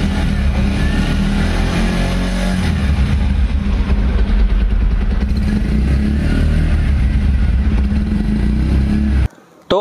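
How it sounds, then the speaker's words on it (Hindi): A Bajaj Pulsar 125 BS6 motorcycle runs steadily close by, its engine and exhaust giving a continuous loud rumble with slight revving variation before it cuts off abruptly near the end, with no talking. "अब आप इसके इंजन और एग्जॉस्ट के साउंड को"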